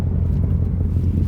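A Ford Mustang Mach 1 with an H-pipe exhaust idles, a loud, steady low rumble close by with a faint crackle and no voices.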